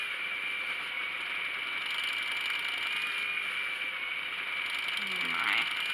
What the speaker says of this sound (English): That's got some serious rattle. I hope it's just because the bobbin is uneven.